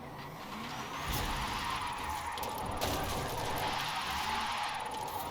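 Car drifting in Forza Horizon 5 with tire squeal, played on a steering wheel: a steady, loud engine roar and skidding tires that swell after the first second and hold without pause, with no talk.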